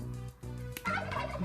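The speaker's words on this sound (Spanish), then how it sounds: "Pavo." A turkey gobbles in a loud, rattling burst of rapid pulses, then pauses briefly before breaking into a second, harsher gobble close to the listener.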